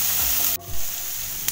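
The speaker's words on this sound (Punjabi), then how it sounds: "ਪਿਆਜ਼ ਨੂੰ ਆਪਾਂ ਬਸ 1 ਮਿੰਟ ਲਈ ਫਰਾਈ ਕਰਾਂਗੇ।" Onions and beans frying in a pan for a mixed vegetable sandwich filling, a steady close sizzle with stirring scrapes, a brief dip partway through, then a short clink near the end.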